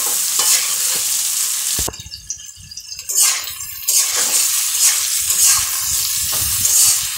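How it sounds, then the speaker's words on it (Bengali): Vegetables and pre-fried potatoes sizzle in a pan for a Bengali fish-and-vegetable dish, with loud scraping stirs and clatters that break up the frying noise. Volume shifts as the stirring starts and stops. "সবগুলো সবজি ভাজা হয়ে গেছে"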